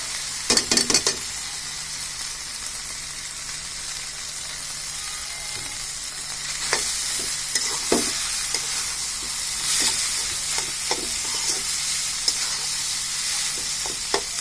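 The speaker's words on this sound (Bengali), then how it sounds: "এখন আমি নুডলসটা এর মধ্যে দিয়ে দিব।" Noodles are tossed and stir-fried in a hot pan with soy sauce and tomato sauce: a continuous, fairly loud sizzle broken by a burst of clatter at the start and repeated scraping strokes of a spatula.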